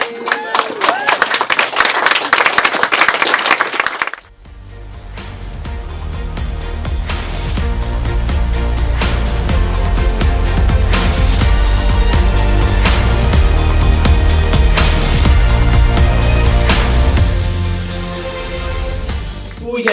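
Wedding guests clap during the speeches after a toast to Mr. and Mrs. Howe, a loud burst of applause lasting a few seconds before music takes over and plays on strongly.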